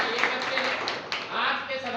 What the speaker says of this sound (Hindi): जब जोरदार तालियों के साथ